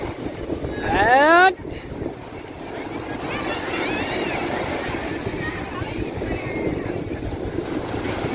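Strong wind roars across the microphone during a boat ride, a loud, steady buffeting rush that persists throughout, with a brief whistling tone early on and a voice speaking.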